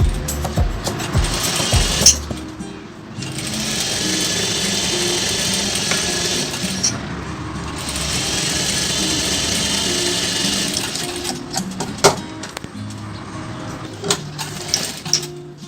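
A sewing machine stitches a dart in a brocade blouse, running in two long steady whirring bursts with brief pauses and small clicks between them, loud and close with no talk.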